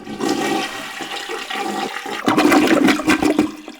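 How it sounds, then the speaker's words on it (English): A toilet flush sound effect from a Roblox sound design kit: a loud, close rush and gurgle of water lasting several seconds, swelling partway through, with no voices. "And even if you need a toilet flush."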